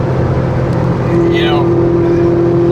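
A 570-horsepower Ferrari engine runs steadily with a low rumble, then settles into a sustained tonal drone as it holds revs; a voice speaks briefly over it.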